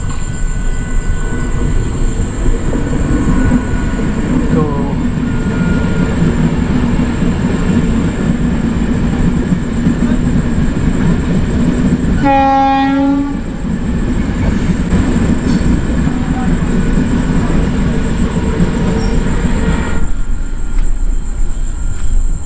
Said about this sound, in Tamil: ட்ரெயின் போகுதுன்னு நினைக்கிறேன் கரெக்டாக.